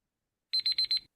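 A quiz buzzer sounds in a short electronic burst of four rapid high-pitched beeps after silence, clean and distinct, during a quiz competition.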